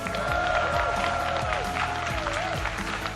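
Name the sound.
audience applause for second-place Kola at PAX West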